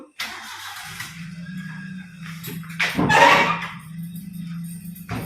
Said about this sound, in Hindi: ले आया आदित्य गाड़ी